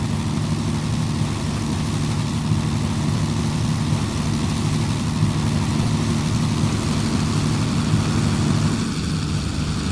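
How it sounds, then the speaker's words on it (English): A P-51 fighter's propeller engine drones steadily in a Roblox airshow at an airbase, a loud, constant low rumble holding throughout with no voices. "P-51's gonna fly over."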